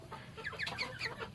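Chickens clucking in a chicken pen in low light, several overlapping bright clucks and squawks at close range with no talking.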